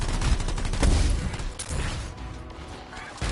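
Turret gunfire in the video game Anthem, a rapid burst of loud, close shots with crashing impacts, thinning out partway through before a final burst at the end.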